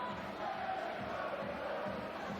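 A rugby league crowd at Widnes sings in the stands, a steady far-off wash of massed voices lasting a couple of seconds with no break in the sound.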